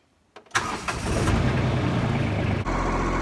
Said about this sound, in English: So I'm gonna fire up the tractor.